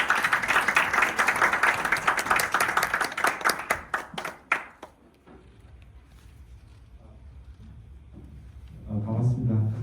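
Applause from a seminar audience at a Canon EOS R6 Mark II hands-on event in Seoul, dense clapping for about four seconds that thins to scattered claps and fades into room quiet, with faint murmuring near the end.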